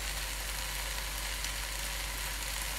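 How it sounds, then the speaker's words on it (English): Chicken pieces sizzle and fry in tikka paste in a hot pan, a steady, close crackling hiss with no pauses. "But you want a real good sizzle sound."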